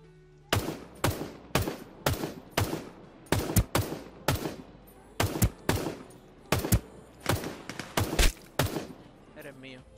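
Rapid bursts of gunfire from the video game Ring of Elysium, sharp shots in quick clusters with short pauses between volleys.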